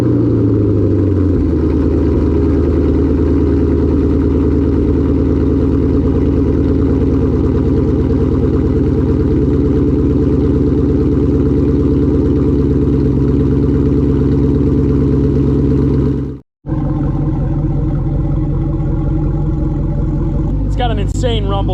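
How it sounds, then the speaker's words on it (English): A 2011 Chevy Camaro SS with an aftermarket exhaust rumbles steadily at idle, deep and loud. It cuts out for an instant near the end, then returns with a voice speaking over it. "Insane rumble to it. Obviously it's an aftermarket exhaust."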